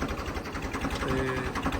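A Punjabi tractor, a modified 855 model, runs with a steady rhythmic engine thrum and pulsing exhaust, revving moderately and close by with no talk over it.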